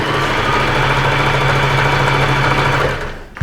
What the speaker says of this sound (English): you're just going to sew using a straight stitch